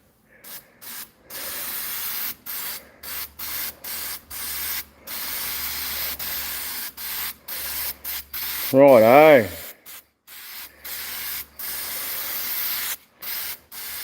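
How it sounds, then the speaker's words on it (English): Adhesive spray cans hiss in a string of short bursts onto a head gasket laid on paper, with quiet gaps between bursts and one brief spoken word in the middle. "If I spray the bottom first, it'll stick to the paper"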